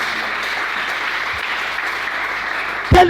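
A church congregation applauds and cheers for the Lord, a loud sustained wash of clapping that carries through, then a sharp louder burst near the end.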